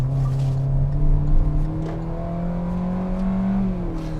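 A Hyundai Venue front-wheel-drive crossover with about 120 horsepower accelerates out of a corner, its engine droning steadily upward in pitch from inside the cabin, fairly quiet and without talk.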